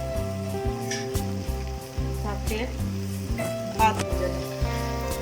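Gulab jamun balls frying in hot oil over a low flame, a steady crackling sizzle throughout, close by, with someone speaking briefly over it and soft background music.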